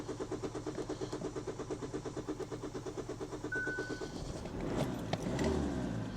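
A car's engine cranks in a rapid, even starter rhythm for several seconds, then catches and settles into a rough, low idle, recorded up close.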